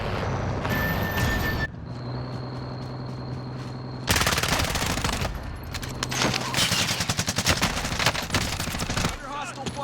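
Rapid bursts of automatic gunfire and overlapping shots from a Call of Duty: Warzone match, loud and dense, with brief pauses between volleys and some voice in the mix.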